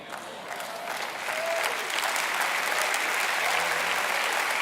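Audience applause at a talk swells quickly and holds as steady, dense clapping from a large crowd, close and loud throughout.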